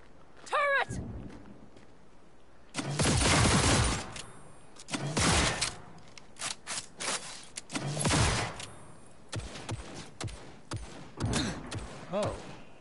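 Bursts of automated turret fire crackle in Cyberpunk 2077, several loud clustered volleys separated by pauses, with a person speaking between shots.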